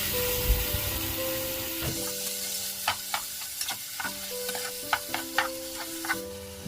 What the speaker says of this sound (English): Let's heat oil in a cooking pot. Now let's cook the meat until brown.